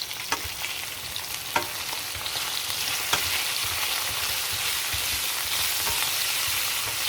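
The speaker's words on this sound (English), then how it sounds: "now I need to stir it nicely" Food fries in a pan with shrimp, zucchini and pasta cooking, a loud constant sizzle filling the space while a utensil scrapes and stirs with occasional sharp clicks against the pan.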